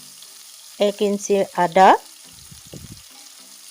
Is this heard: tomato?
yes